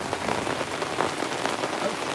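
Steady rain pattering outdoors on a surface during gold sluicing, a dense, even hiss of drops close by with no talk.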